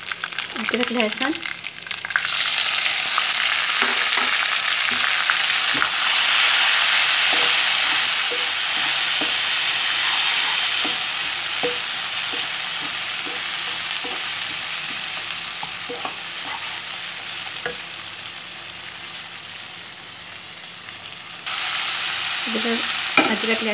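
Ginger and garlic fry loudly in a pan, a dense steady hiss of oil that eases midway, punctuated by repeated scraping stirs and utensil taps.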